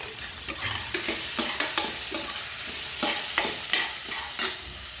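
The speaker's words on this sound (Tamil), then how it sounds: "வெங்காயம் ரொம்ப வதங்க வேண்டாம்" Chopped onions sautéing in a pan with salt for a millet-flake and moong dal upma, a close low sizzle broken by repeated scraping stirs of the spatula, no voices.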